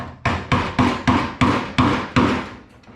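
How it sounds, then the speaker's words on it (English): A screwdriver hammered against the locking ring on a car's gas tank, six sharp metallic blows in an even rhythm, each ringing briefly before the next. The strikes are close and loud, with no voices. "I just take a screwdriver and we're going to hit against this until it comes up against this, and it locks that in place"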